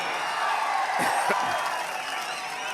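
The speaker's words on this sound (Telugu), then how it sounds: "అందరూ చప్పట్లు కొట్టి అభినందించండి వాళ్ళని" A large crowd at a political rally in Nagari applauds and cheers, dense clapping and a roar of voices that fills the space, with a few short shouts rising above it.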